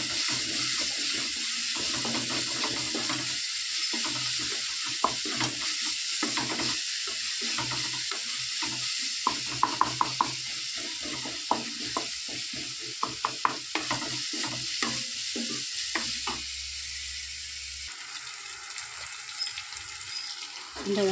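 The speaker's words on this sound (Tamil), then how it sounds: "எண்ணெய் காஞ்சிட்டு நம்ம கடுகு வெங்காயம் தக்காளி இஞ்சி பூண்டு பேஸ்ட்லாம் போட்டு நல்லா வதக்கிடுங்க." Onion, tomato, mustard seeds and ginger-garlic paste frying in hot oil, a steady sizzle with irregular stirring scrapes and clinks running throughout, fairly close, with a quieter stretch near the end.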